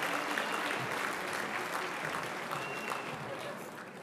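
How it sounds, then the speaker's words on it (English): An audience at a spring convocation applauds graduates of a tourism, hospitality management and event planning program, a dense sustained clapping that fades slightly toward the end, with some voices mixed in. "Please give a round of applause for the graduates"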